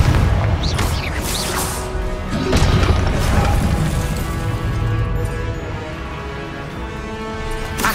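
Confringo blasting curse explosions in a Hogwarts Legacy boss fight, a few sharp booming bursts and crashes over a dense, busy battle din.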